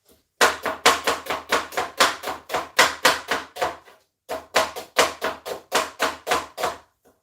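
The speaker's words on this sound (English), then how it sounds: "your onion long lengthways like that, and you're just going to go straight through" A knife chops steadily through onions sliced lengthways on a board, a close, loud run of evenly spaced cuts, a brief pause, then another rapid sequence, with no voices.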